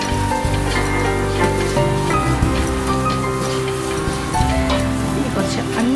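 Onions sautéing with garam masala and spices in a hot pan, a steady sizzling crackle with scattered pops that runs throughout at a fairly loud, close level.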